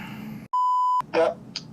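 A phone voicemail beep sounds after a switched-off phone message: one steady, clear electronic tone lasting about half a second, followed by faint rustling and a brief click.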